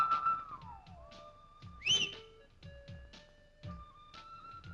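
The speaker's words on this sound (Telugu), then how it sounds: "ఏంటి ఈల ఈల. అదే ఎందుకేసావు?" A person whistles in a comedy scene: several sliding and sustained tonal whistles over a steady rhythmic background beat, with one loud high burst near the middle.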